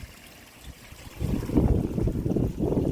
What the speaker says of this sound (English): There's your water feature right there.